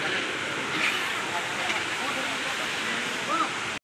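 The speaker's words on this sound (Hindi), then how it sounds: "ये देखिए बहुत बड़ा वाटरफॉल है" A large, very tall waterfall hidden in cloud, heard as a steady broadband roar of rushing water that stays even throughout, with faint voices in the background.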